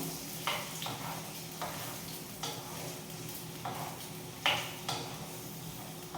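Gooseberries are sautéed in oil in a pan, giving a low, hissing fry punctuated by repeated spoon scrapes and taps against the pan at an uneven rhythm.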